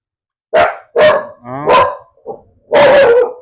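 A dog barks close by in a short irregular series of loud, sharp barks, four or five in all, with a brief pause before a final longer, harsher bark.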